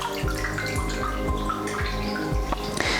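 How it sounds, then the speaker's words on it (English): A cotton mop dunked into water in a washing up bowl, giving close, loud sloshing and repeated watery gurgles and drips in an uneven rhythm, with no voices. "Let's dunk that in. It's a good size for my washing up bowl."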